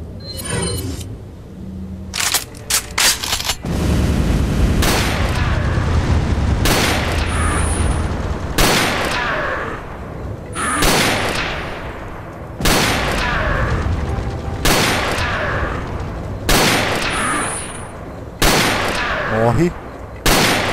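Bursts of rapid gunfire in Resident Evil 4, loud and close, firing in repeated volleys with short pauses between them until the ammo runs out, with a voice talking over parts of it.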